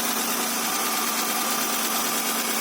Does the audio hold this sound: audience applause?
no